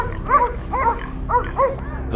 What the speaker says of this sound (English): The barking led me to a nearby garden.